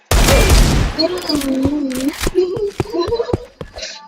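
Video game gunfire bursts loudly at the start, then a few sharper single shots and clicks follow while a voice talks over them.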